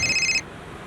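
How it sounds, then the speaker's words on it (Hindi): A telephone rings with a bright electronic double-tone trill for under half a second as a call is placed, then cuts off abruptly into quiet room tone. "इस नवीन को फोन लगा तुरंत और पूछ इसने गाड़ी किसको बेची थी"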